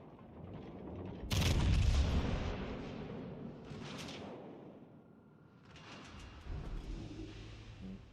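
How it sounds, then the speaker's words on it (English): A heavy Musashi battleship shell strikes a ship in World of Warships: Legends, one loud booming impact followed by fading rumble and softer secondary blasts. "I just took a Musashi shell."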